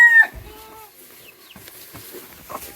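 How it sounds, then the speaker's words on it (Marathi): A chicken squawks loudly at the start, then a few softer clucks and scattered farmyard noises, with bullocks nearby, follow in a quiet Konkan village setting. "कोंबडी हे बघा"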